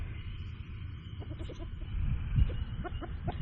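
A flock of chickens clucks in a run fenced around a garden, with soft, scattered clucks building up in the second half over a low outdoor rumble.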